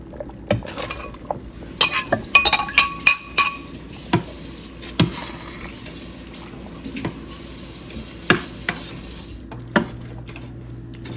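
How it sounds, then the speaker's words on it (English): Cubes of cooked ham tipped into a pot of split pea soup, a run of sharp clinks and clatters bunched early, then sparser knocks and scrapes against the pot. "I'm adding 4 cups of ham, and my ham was already cooked"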